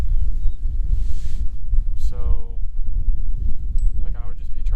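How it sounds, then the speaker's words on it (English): Wind buffets the microphone at a campsite, a heavy low rumble gusting throughout while a person speaks briefly and a couple of sharp chirping sounds cut through. "on top of that it's windy"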